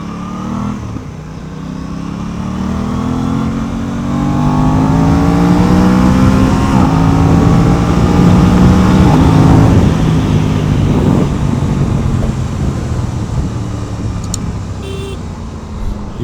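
An Aprilia RS660 sport motorcycle being ridden on a road, its engine droning loud and close with rising and falling revs, tyre and wind rush beneath, and a brief high tone near the end.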